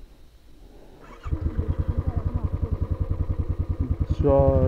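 A motorcycle on a hill road near Kalimpong in North Bengal pulls away in first gear, its engine thumping in a rapid, even pulse that rises sharply near the end, with a voice briefly speaking.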